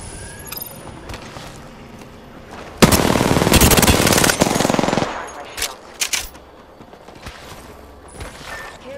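Rapid automatic gunfire from the battle-royale video game Apex Legends, a loud dense burst of about two seconds over continuous game ambience, followed by a few scattered single shots.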